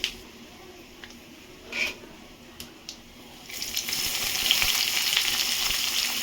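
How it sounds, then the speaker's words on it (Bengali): Onions hit hot oil already seasoned with cumin and whole garam masala, bursting into a loud, steady sizzle after a few seconds of quiet clicks and taps. "পেঁয়াজ দিয়ে দিলাম, দুটো বড় সাইজের পেঁয়াজ। পেঁয়াজগুলো ভেজে ফিরছি"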